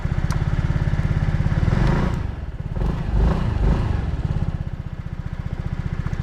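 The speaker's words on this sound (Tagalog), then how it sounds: "Start natin yung motor niya para madinig natin yung tunog" A small SYM ADX scooter engine starts up and settles into a steady, close idle with a rapid putter and a few brief revs.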